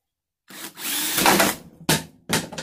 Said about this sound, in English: I'm going to use my hole saw I used earlier to make some nice spacers.